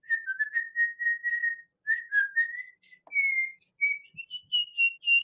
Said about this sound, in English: we would just whistle all the time